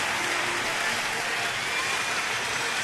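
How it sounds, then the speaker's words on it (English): A baseball stadium crowd roars and cheers in a steady, dense wash of noise at a Padres at Nationals game, loud and continuous throughout with no clear voices standing out. "And the crowd is roaring here."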